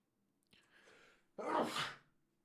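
A single sneeze: a short breathy intake followed by a sharp, loud burst, close to the microphone in a quiet room.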